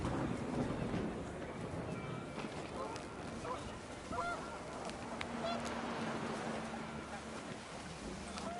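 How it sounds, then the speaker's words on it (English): Panicked geese honk repeatedly in the video game What Remains of Edith Finch, scattered calls over a windy, busy background that persist throughout the clip at moderate, fairly distant volume. "The wind picked up, and panicked geese appeared and quickly went."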